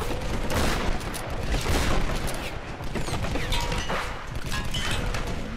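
Trench gun fire in the Tomb Raider video game: a steady barrage of sharp, loud shots and crashing impacts runs without a break, closely spaced and forceful, with little talking.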